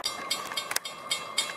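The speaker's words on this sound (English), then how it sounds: "here comes another train" A CSX or Amtrak train passes by, heard as a steady rumbling roar with repeated rhythmic clacks of wheels on rail joints, close and continuous without talk.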